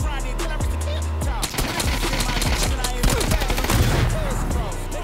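Dense, loud rapid automatic gunfire from PUBG combat, overlapping bursts and shots in quick succession with a constant heavy low rumble beneath.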